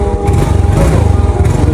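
A small Yamaha Mio Sporty motorcycle engine runs close by, a loud, steady buzzing drone with a slightly uneven pulsing throb and no voices over it.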